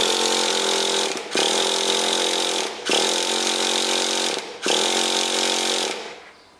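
A Traxxas Slash Nitro 2WD RC car's small nitro engine is cranked repeatedly for a start, producing a loud, buzzing whine in four long bursts separated by brief pauses, with no speech.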